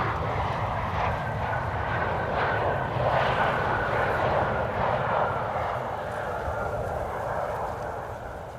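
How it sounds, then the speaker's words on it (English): A KLM airliner arriving at Amsterdam Schiphol Airport, heading toward the Polderbaan runway, gives a loud, steady jet engine roar. The roar holds through the whole stretch and eases slightly toward the end. "This is KLM flight 984 arrival from London City."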